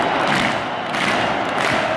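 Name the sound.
football stadium crowd cheering, Atletico Madrid match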